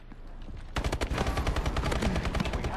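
Rapid bursts of shotgun fire in a video game crack out after a short quiet lead-in, dense and loud, with repeated close blasts overlapping.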